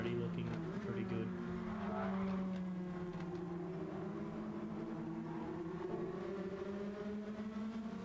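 Race cars drone in the background of a sim racing game at Daytona at night, a faint sustained engine hum with shifting pitch, partly under talk.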